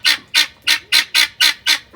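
A guinea fowl squawks seven times in a quick, even rhythm, each call loud, harsh and close, with no talking.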